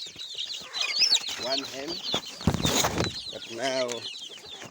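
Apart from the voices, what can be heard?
chickens clucking in a village farm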